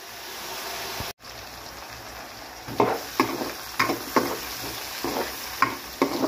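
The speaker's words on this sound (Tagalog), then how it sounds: "Gisahin lang natin." Carrots and chayote sauté in a hot pan: a steady background sizzle, then a run of regular scraping stir strokes about every half second after a brief cut-off, close and moderately loud, with no talking.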